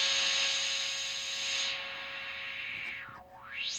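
An ARP Odyssey synthesizer trumpet patch with the noise generator added, a breathy hiss layered on top, the noise sweeping down and back up in a swooshing filter glide near the end.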